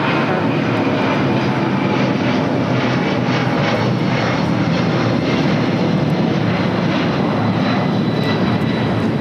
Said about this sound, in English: This is Delta Airlines 392 taking off to Washington Reagan National on a 757-200